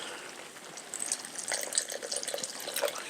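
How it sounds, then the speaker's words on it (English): Water poured into a cooking pot for a spicy plant-based meal, a close trickling and splashing that starts softly and grows into an uneven pour, with no talking. "I'm just putting water in as needed."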